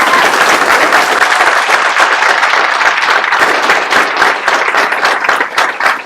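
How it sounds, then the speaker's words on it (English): Loud, dense round of applause from an audience just before a county swearing-in ceremony, a continuous wash of many hands clapping close by that holds steady for several seconds and thins slightly at the end. "I would ask you to give them a round of applause for what they're about to do."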